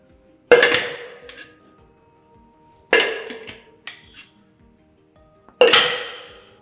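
Three sharp, loud clinking impacts spaced a couple of seconds apart, each ringing briefly with lighter rattles between, as a glass bottle is caught back-to-front into a metal shaker during flair bartending.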